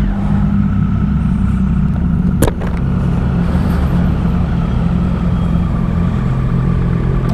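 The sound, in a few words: Suzuki motorcycle with Leo Vince exhausts revving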